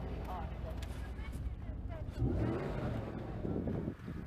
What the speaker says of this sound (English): He does like I do. He gets a vroom before he turns it off.